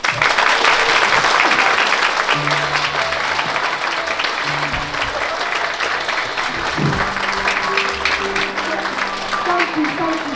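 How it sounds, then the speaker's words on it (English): Audience at a stage production of the Peter Pan musical claps steadily and loudly throughout, a broad wash of applause with musical tones and voices sounding underneath. "if you believe in fairies, clap your hands!"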